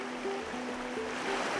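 Caribou Falls, a waterfall in heavy flow, produces a constant broadband rushing roar, steady and dense throughout, with a faint low tone underneath.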